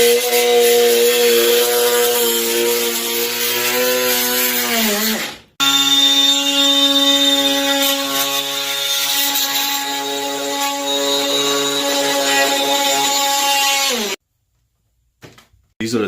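An oscillating multi-tool cuts moldy caulk out along a bathtub, giving a loud, steady, high-pitched buzzing drone that runs for about five seconds, breaks off briefly, then drones on and stops abruptly.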